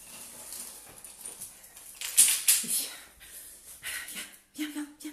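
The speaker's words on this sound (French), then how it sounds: "on a notre chien qui pleure tout le temps parce qu'elle n'est pas contente, elle est enfermée" A shut-in dog whimpers and whines in short broken bursts, some sharp and high, others breathy, fairly near with some soft talk around it.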